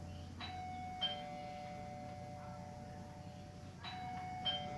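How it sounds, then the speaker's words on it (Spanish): A doorbell rings twice, each a clear two-tone ding-dong, spaced a few seconds apart over a quiet indoor hum. "Ese es el sonido de un timbre."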